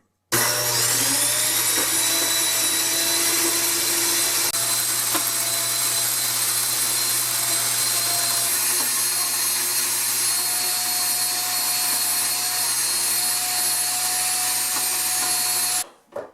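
An electric grain mill grinding wheat berries into flour gives a loud, steady motor whine with a high-pitched drone, running continuously with no voices and cutting off abruptly at the end.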